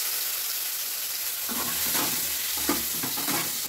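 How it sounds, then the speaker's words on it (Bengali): Shrimp hitting hot oil in a pan, a loud continuous sizzle that swells and crackles more strongly midway, with occasional stirring scrapes and no talk. "এই তেলে চিংড়ি মাছটা দিয়ে দিলাম,"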